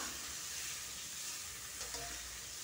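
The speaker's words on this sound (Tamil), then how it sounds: "வெங்காயம் கொஞ்சம் கலர் மாதிரி வரணும், அது வரைக்கும் நம்ம வதக்கி எடுத்துக்கலாம்." Steady sizzling of onion and tomato sautéing in a hot pan, a continuous hiss with a couple of faint scraping stirs near the end.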